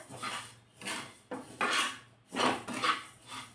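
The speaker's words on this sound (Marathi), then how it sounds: "सारखं फिरवून हे तीळ भाजून घ्यायचे आहेत" Sesame seeds stirred while dry-roasting in a pan, repeated soft scraping and rattling sweeps of a spoon against the pan in an even back-and-forth rhythm, quiet and close.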